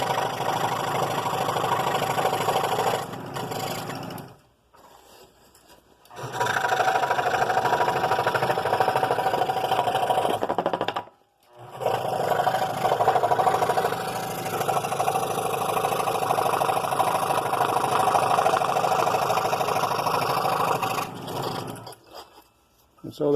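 A power saw cuts 3/4 inch pieces off a 1x6 wood board for a Christmas gourd project, a loud steady whine that runs continuously and stops briefly twice between cuts.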